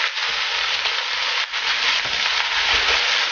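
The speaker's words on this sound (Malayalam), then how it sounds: "സോ ഇത്രയും ചേർത്ത് ആദ്യം നന്നായിട്ടൊന്ന് വഴറ്റി കൊടുക്കുക" Crushed green chillies sautéing in hot oil for a Kerala pepper crab roast, a loud, dense, continuous sizzle with a brief dip midway and faint stirring underneath.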